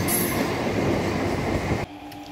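A train moves through a station with a rumbling roll and a faint high wheel squeal, and it drops off abruptly near the end.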